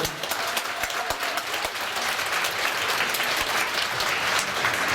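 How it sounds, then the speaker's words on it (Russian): An audience at a Khakas ballet performance applauds the choreographers, a sustained, even round of clapping from a large crowd with a few sharper individual claps standing out, no speech. "Аплодисменты балетмейстерам"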